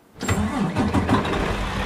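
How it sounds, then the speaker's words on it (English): In Euro Truck Simulator 2, a truck engine cranks and catches, then settles into a steady, loud, rumbling idle with no talk over it. "Engine on."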